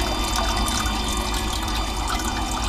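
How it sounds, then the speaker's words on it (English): Water flows from a Davies Craig EWP 150 electric water pump, rated at 39.6 gallons per minute, as a steady, even rush of liquid that holds at a constant level throughout, with no voices. "this is about the flow I am getting with this Davies Craig pump"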